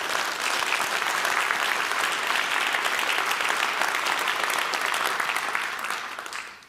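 A large audience at a university State of the University address gives a steady round of applause, dense and even clapping that holds throughout before tapering off at the very end.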